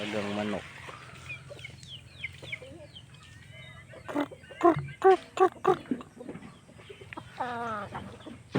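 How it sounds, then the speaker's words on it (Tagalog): Large chickens cluck at a house in short bursts, fairly close, with a few louder squawks and some talking mixed in. "Ang maalagang manok."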